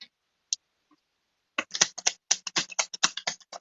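Tarot cards are shuffled close up, a few isolated flicks and then a quick run of crisp, riffling snaps and taps in an otherwise quiet room.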